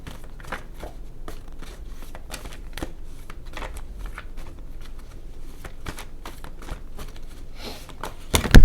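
Tarot cards riffled and shuffled repeatedly in a soft, steady patter of papery flicks, close up, ending in a louder sharper riffle.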